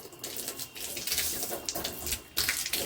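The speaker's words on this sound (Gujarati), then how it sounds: "પાણી આવ્યું જો મારા ભાઈ પાણી ભરે છે" Tap water runs steadily at night in a village house, filling containers with a slow flow from a motor-fed supply. It makes a continuous close splashing hiss with small surges throughout.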